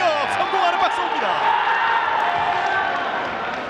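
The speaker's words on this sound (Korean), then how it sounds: "이렇게 공격 성공하는 박수입니다" Spectators clap and cheer after a successful attack in a jokgu championship final, a broad burst of applause that slowly tapers off while a commentator talks over it.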